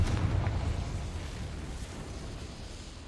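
A Confringo fire spell explodes in the video game Hogwarts Legacy, a loud booming burst at the start that rumbles and slowly fades away, with no talk.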